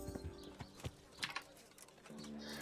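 A horse's hooves clip-clop in the Kingdom Come video game, a few brief uneven steps heard faintly at a distance.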